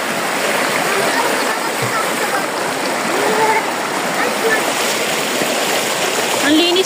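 A clean river flows steadily close by, a continuous broadband rush and gurgle of moving water with small splashes throughout and no voices.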